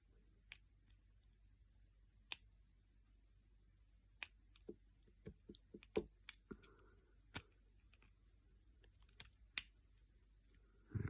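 A bobby pin works inside a Master LOTO lockout padlock, giving sparse, sharp little clicks and taps with long quiet gaps, close and fairly faint, gathering into a busier cluster of clicks near the middle.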